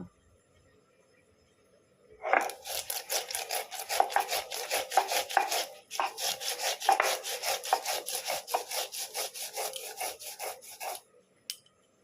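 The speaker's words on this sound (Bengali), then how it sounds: "এবার আমি মশলাটা বেটে নেব।" Poppy seeds and white mustard ground on a stone slab with a grinding stone: after a quiet start, a long run of quick, rhythmic rasping strokes follows, with one brief pause midway before it stops near the end.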